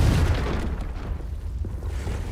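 A Confringo spell explodes in Hogwarts Legacy with a deep boom at the start, then a rumbling tail that slowly fades over about two seconds, with no voices.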